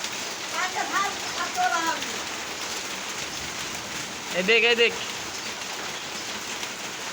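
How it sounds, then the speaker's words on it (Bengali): Heavy rain pours steadily onto a paddy field, a dense, even hiss that fills the whole stretch, while people speak briefly near the start and again near the middle. "এই যে দেখেন বৃষ্টি হচ্ছে"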